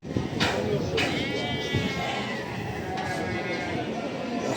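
Sheep and goats bleat at a livestock market in Barda, with wavering calls rising over a steady bed of crowd chatter and nearby voices talking throughout.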